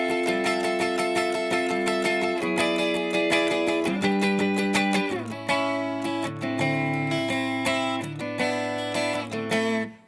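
An electric guitar plays a sustained chord passage with an F in the bass, ringing notes moving through several chord changes, clear and alone without talk.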